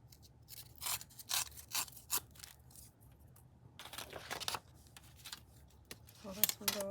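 A junk mail paper envelope is torn by hand in several short, close rips and rustles, spaced out with pauses, with a brief voice near the end.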